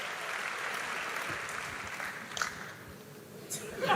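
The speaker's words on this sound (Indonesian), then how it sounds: "Let's give a great hand to the guys" Congregation applause at a youth church service, a moderate spread of clapping that fades midway, with a few louder bumps and stirrings as it dies down.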